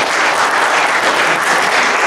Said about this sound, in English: Everybody's going to clap.